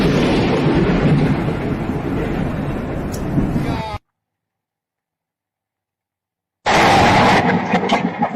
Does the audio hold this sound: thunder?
yes